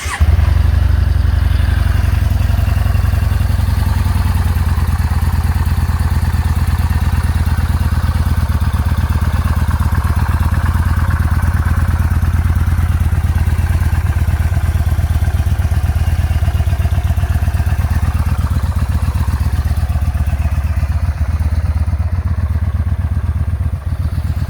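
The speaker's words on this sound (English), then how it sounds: "That's how bone stock exhaust sounds like" A 2017 Yamaha SCR950 motorcycle with its stock exhaust runs steadily nearby, a loud continuous low engine rumble that holds even throughout with no talking.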